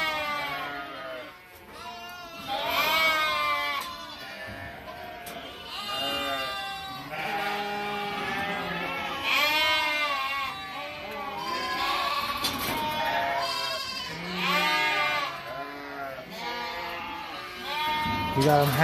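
Flock of sheep and goats bleating repeatedly at close range in a chute during worming after kidding, many overlapping cries of varied pitch, with people talking faintly in the background.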